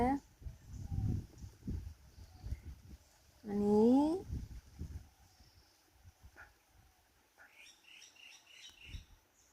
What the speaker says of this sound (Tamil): குருவி கத்துற சத்தம் கேட்குதா